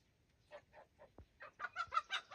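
Chickens cluck in a series of short, close calls, sparse at first and then quickening into a louder run of clucks.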